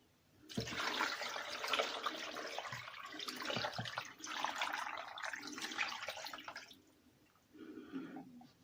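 Water pours and splashes steadily into a bowl as meat is mixed in it with vinegar to tenderize it, a continuous rushing sound that pauses briefly, then resumes more softly near the end.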